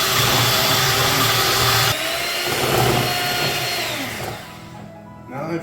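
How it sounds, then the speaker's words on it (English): Electric mixer whisking whipped cream for chocolate mousse, a loud steady whirring drone that runs strongly for about two seconds, then continues slightly lower and wavering before tapering off near the end. "we're gonna whisk it until it forms peaks"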